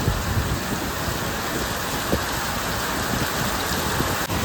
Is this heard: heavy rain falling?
yes